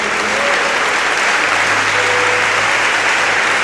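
A church congregation breaks into sustained, dense applause, loud and close, with clapping filling the whole space without a break.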